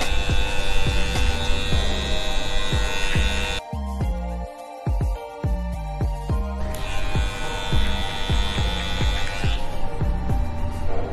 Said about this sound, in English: I'll start to refine the skin fade part using ANDIS Slimline Pro